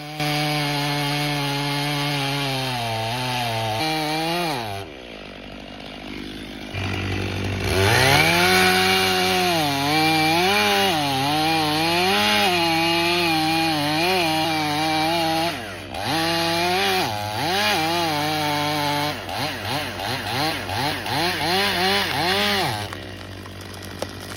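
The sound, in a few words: chainsaw cutting wood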